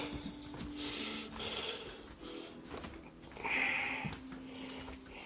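A dog sniffs quietly nearby outdoors after an ice storm, with short snuffling bursts in an uneven rhythm against a faint background.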